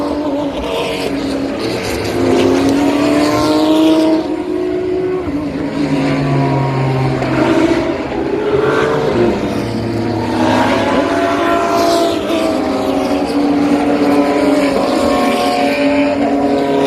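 Historic sportscars roar away at the start of a race at Road Atlanta, several engines blaring together with rising and falling pitch, loud and sustained, with no talk.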